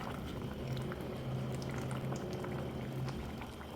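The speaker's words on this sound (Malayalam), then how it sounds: "നമ്മൾ തിളപ്പിക്കാൻ വെച്ച മാങ്ങയും പൊടികളും എല്ലാം കൂടി തിളയ്ക്കുന്നുണ്ട്" A pot of fish curry with mango bubbling steadily at a low simmer, with soft continuous gurgling and occasional small pops, close by and fairly quiet, with no talking.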